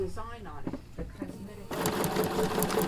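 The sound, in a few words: sewing machine stitching quilt binding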